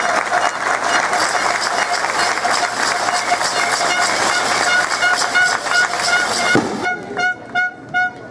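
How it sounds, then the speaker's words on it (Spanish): A crowd at a swearing-in ceremony for regional authorities in Lima Provincias applauds loudly and steadily, a dense wash of clapping that stops abruptly near the end, leaving a few scattered sharp sounds. "Fuertes los aplausos para ellos."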